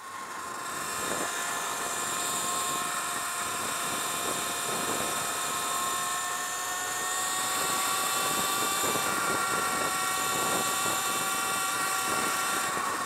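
Sur Ron Light Bee electric supermoto climbing a hill at speed, a constant high electric motor whine with layered tonal hums and steady wind rush, close and loud throughout with no voices.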